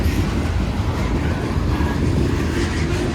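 Freight train with a mid-train DPU locomotive rolling past nearby, a steady loud rumble of wheels and cars with rhythmic clatter and no pauses.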